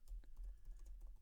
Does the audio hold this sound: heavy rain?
no